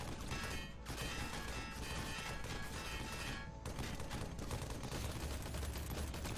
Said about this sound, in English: The optic is a long-range enemy that pins down the player with a machine gun.